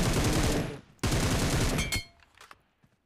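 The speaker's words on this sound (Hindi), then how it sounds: "और भी फायरिंग की आवाज़ आ रही है" Loud automatic gunfire in PUBG Mobile comes in two rapid bursts, followed by a few sharp, fainter single shots that trail off.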